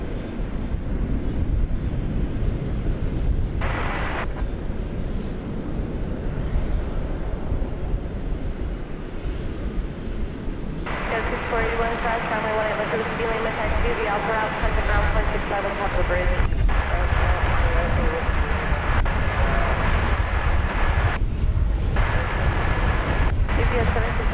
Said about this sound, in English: Snappy takeoff.